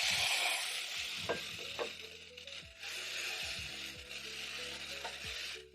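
Tomatoes tipped into a pan of frying onions and garlic, giving a steady close sizzle under scattered stirring clicks and soft scrapes throughout, with no voices.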